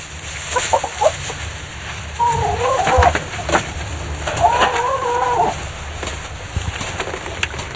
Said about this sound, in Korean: 닭 키우는 헛간으로 간다.